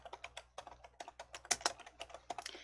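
Rapid, irregular keystrokes on a computer keyboard while entering data into an Excel spreadsheet, crisp and close with a few louder clacks midway, with no talking.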